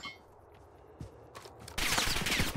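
Video game gunfire bursts into a loud, dense fusillade partway through, following a quieter stretch with a few scattered sharp shots and clicks.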